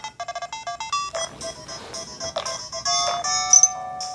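Windows 95-era PC game music plays loud and close from a Toshiba Libretto 50CT laptop: a fast run of square-wave beeps, then a busier stretch of chiptune tones and bleeps.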